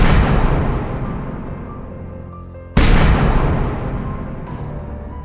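Two booming shots, the first at the very start and another midway, each with a long rumbling decay, plus a faint crack near the end.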